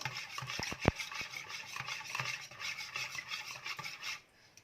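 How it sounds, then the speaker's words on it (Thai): An egg and tofu mixture is stirred in a bowl, giving a steady close rasping, scraping sound with a few sharp clinks of the utensil against the bowl, then a quiet tail. "คนส่วนผสมให้เข้ากัน"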